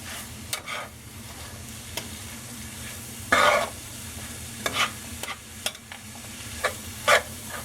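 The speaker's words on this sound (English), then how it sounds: "I can go ahead and mix everything together." Ground beef with onions and peppers frying in a pan, a constant soft sizzle broken by several sharp scraping stirs and utensil clatters, close and with no talk.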